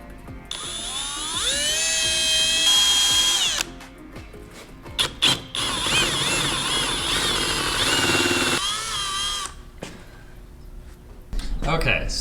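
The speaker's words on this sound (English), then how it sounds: "Then we're gonna drill a little pilot hole" A power drill bores a small pilot hole through metal while working on a RAD Charger, the motor whining loudly and steadily for several seconds, pausing, then starting again in shorter bursts with brief speech between runs.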